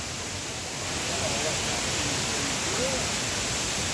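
Steady broadband rush of a waterfall at Green Falls resort, set in a forested mountain valley, heard close and continuous, swelling slightly after the first second with faint voices underneath.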